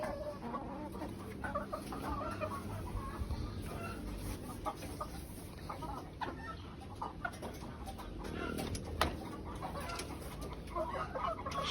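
Chickens cluck steadily in a noisy coop of about 64 white layer hens, several birds overlapping with scattered short calls and a constant background hum.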